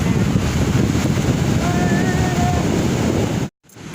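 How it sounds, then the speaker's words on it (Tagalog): Ocean waves roll in at a surfing beach as a steady, broad roar mixed with wind buffeting the microphone, continuous and fairly loud before cutting out abruptly near the end. "So, look at the waves, no?"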